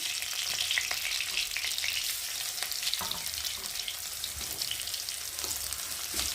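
Garlic fries in a hot pan with onion and black cumin, producing a continuous bright sizzle and crackle, close and steady throughout, with a few soft stirring knocks.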